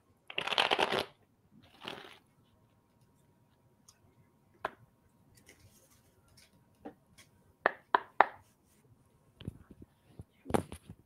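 Tarot cards being shuffled by hand, a riffle burst followed by scattered short card flicks and taps at irregular intervals, close and quiet, with no talking.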